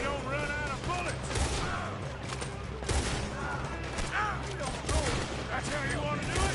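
Rapid gunfire erupts during a robbery shootout in the Red Dead Redemption 2 video game, with repeated sharp shots over a constant background of game sound and character voices.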